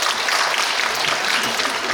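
Applause from an audience at a high school information session, a dense continuous patter of clapping hands heard close and fairly loud throughout the short stretch.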